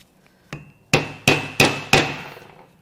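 Four sharp, ringing hammer blows strike a chisel driver to knock a thrust bearing out of a salt-water-flooded Camaro LS1 engine, preceded by a lighter tap, each impact loud and close with a metallic ring that decays between strikes.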